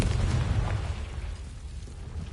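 Confringo spell explosion in the Hogwarts Legacy video game: a loud, rumbling blast that bursts at once and then slowly fades over about two seconds, with no talk.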